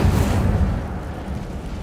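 A fiery blast from the Incendio spell in Hogwarts Legacy erupts as a loud, rumbling burst, then dies away into a fading low roar within about two seconds.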